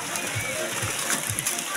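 Spring water flowing out from a wooded mountain, a constant close splashing rush that stays steady throughout, with no clear talk.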